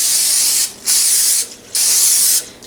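Cooking spray from a hand-press can misted onto a cake plate in short bursts: two long hissing sprays with a brief pause between them, a third starting at the end, loud and close with no talk.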